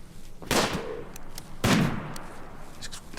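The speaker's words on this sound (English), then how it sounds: "That sniper rifle makes a good noise." Two heavy sniper rifle shots in the game Rimworld, each a sharp loud crack with a short rumbling tail, about a second apart, followed by faint scattered ticks in the background and no voices.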